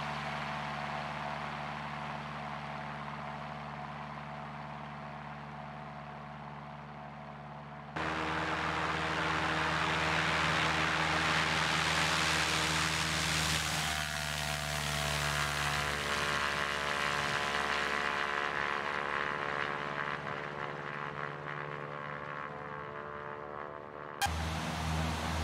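The propeller engine of a Cessna 172 in the X-Plane 11 flight simulator drones steadily, with a loud, constant hum and rushing air noise that shifts in pitch and intensity partway through.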